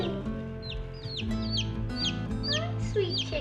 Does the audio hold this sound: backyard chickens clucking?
yes